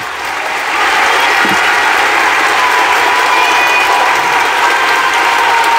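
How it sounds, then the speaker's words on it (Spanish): Loud sustained applause rises quickly and fills a sanctuary after a choir concert, a thick reverberant wash of many hands with faint cheering in it. "Un fuerte aplauso para el padre Carlos."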